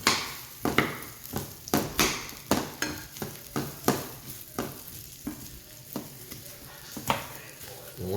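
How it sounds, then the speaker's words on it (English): Fajita vegetables cooking in regular vegetable oil in a pan give a soft, steady sizzle, broken by repeated sharp clacks and scrapes from stirring, with no voices. "I put a little bit of just regular vegetable oil in the bottom of the pan. We're going to cook these down some."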